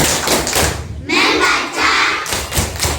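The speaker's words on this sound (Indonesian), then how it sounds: "Mari kita tutup kembali dengan tepuk 6M" Group clapping chant closing a lesson on the 6M method, with repeated sharp broadband claps in a steady rhythm mixed with voices chanting together, loud and close throughout.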